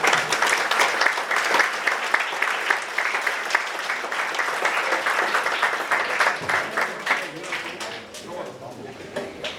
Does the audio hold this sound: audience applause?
yes